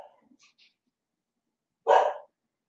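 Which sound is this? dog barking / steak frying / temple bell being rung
dog barking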